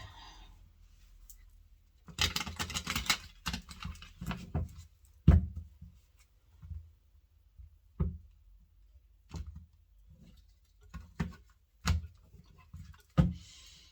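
A tarot deck is shuffled close up, with a longer riffling burst early on, then scattered soft card taps and snaps, quiet against near silence.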